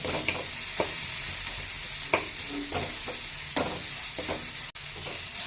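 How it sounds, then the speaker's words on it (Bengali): Onions frying lightly in a pan: a continuous sizzle with repeated spatula scrapes and stirring taps at an uneven rhythm, close and fairly loud, with no talking. "পেঁয়াজগুলো ভেজে হালকা ভাজবো, খুব কড়া ভাজবো না"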